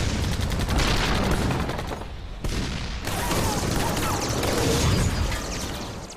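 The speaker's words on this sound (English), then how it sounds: "With tanks firing at point-blank range, the Japanese Hago now finds itself hopelessly outgunned by the U.S." Tank guns fire at point-blank range in a Pacific battle between a U.S. Sherman and a Japanese Ha-Go light tank, a dense, loud barrage of gunfire and booms with a brief lull midway.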